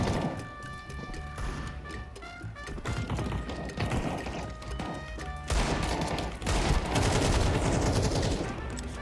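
Counter-Strike 2 match gunfire, including Desert Eagle shots: repeated sharp reports and rapid bursts in quick succession, fairly loud against background game sounds, with little talk.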